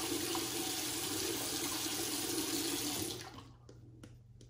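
A bathroom tap runs steadily while shaving lather is being made, a broad even rush of water that cuts off abruptly after about three seconds and leaves a few faint drips and clicks.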